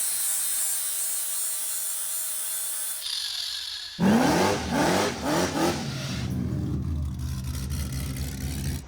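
A Toyota Supra swapped with a Hellephant engine drives around a building, first a steady high whine, then a loud surging engine roar with revving bursts that settles into a rougher idle-like rumble, no talking.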